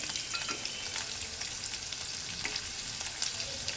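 Green chillies and cumin seeds frying in hot oil, a dense continuous crackling sizzle with fine popping bursts throughout, close and steady with no talk.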